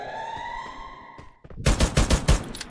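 A quiet electronic tone from the Free Fire video game gives way to a loud burst of rapid automatic gunfire, with rattling shots crowding the second half.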